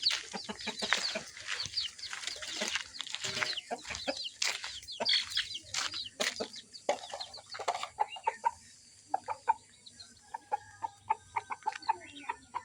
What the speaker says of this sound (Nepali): यता कुखुरा देखाऊँ भनेको होइन हाम्रो कुखुरा